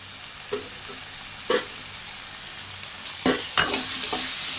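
Curry leaves sautéing in hot oil for an egg curry, a steady low sizzle punctuated by several sharp crackling pops and spurts, with no talking.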